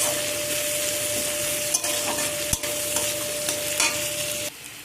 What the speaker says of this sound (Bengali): পেঁয়াজটাকে এখানে ভালো করে একটু ভেজে নেব।